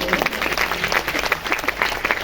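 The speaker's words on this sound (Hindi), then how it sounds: "जोरदार ताली।" An audience bursts into strong, sustained applause, dense overlapping claps filling the room at a lively, even level.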